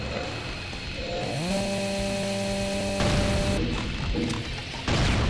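Gore-spattered chainsaw in the Brutal mod of Doom, running loud and close with a rough buzzing idle, a rising rev and harsh grinding crashes as it cuts, with bursts of clattering impacts near the end.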